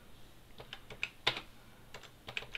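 Quick keystrokes clatter on a computer keyboard connected to a Raspberry Pi Model B (512MB) during login, a short irregular run of close, crisp clicks with no talk.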